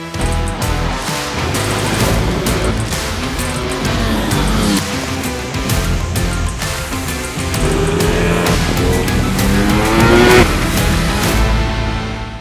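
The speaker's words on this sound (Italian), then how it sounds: "E adesso andiamo a farci un giro in pista con la Street Fighter V4S." A 2023 Ducati Streetfighter V4 S rides hard on the Andalusia race circuit, its loud engine revving up and down through the gears with sharp rising pitch sweeps and crackling shifts, heard close and without talk.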